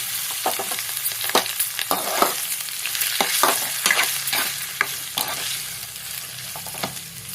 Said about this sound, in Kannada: ಒಂದು ಕಪ್ಪು ಬೇಳೆ ಬೇಯಿಸ್ಕೊಂಡಿರೋದನ್ನ ಹಾಕ್ಕೊಂಡು ಕಲಿಸ್ಕೋಬೇಕು